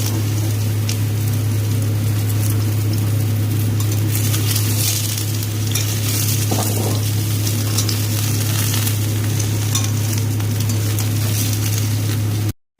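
Chopped papaya, potato and eggplant frying in oil with cumin seeds, a loud, steady close sizzle with a low hum underneath, running continuously and then cutting off abruptly at the end.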